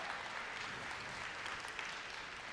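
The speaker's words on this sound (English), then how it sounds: "Give them a round of applause," An audience at a conference claps steadily, a dense even wash of applause heard from within the room with no voices over it.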